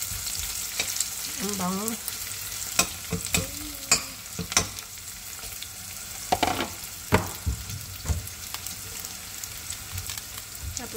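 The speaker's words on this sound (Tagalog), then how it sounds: "Ginisang upo sa kamatis." Bottle gourd and tomato sauté in a pan with steady frying sizzle, broken by repeated scraping and stirring knocks of a utensil; a voice speaks briefly over it.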